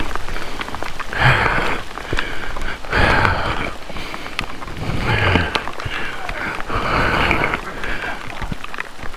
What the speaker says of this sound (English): This is hail. I mean, this is big rain.